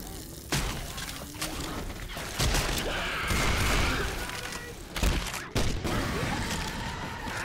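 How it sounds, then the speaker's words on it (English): Sniper rifle shots ring out in the Resident Evil 2: Source mod for Left 4 Dead 2, with several sharp, loud cracks spaced a few seconds apart over dense, busy game noise. "Try the sniper rifle."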